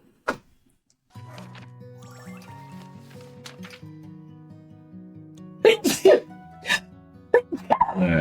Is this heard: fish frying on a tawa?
no